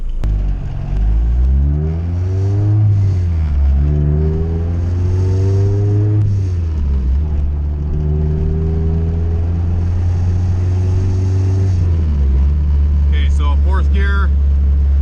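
Honda CRX engine revving hard through the gears on a street pull, pitch climbing and dropping with each shift, loud and close, with a brief whistling whine near the end.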